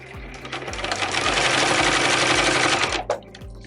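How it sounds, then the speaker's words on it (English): A sewing machine stitches the seams of a waxed fabric snack pouch, giving a close, steady mechanical whir with a rapid needle beat for about three seconds before stopping abruptly. "I'm going to stitch these together with the wrong sides facing using about a 3/8 inch seam allowance"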